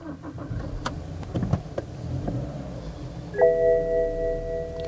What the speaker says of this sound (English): Start the car up now.